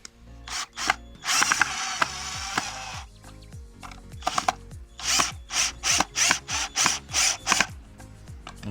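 A TEENO PSR 21V cordless impact drill drives screws, with a long continuous whine in the middle. A run of short, even bursts follows as the trigger is pulsed. The sound is loud and close, and no one speaks.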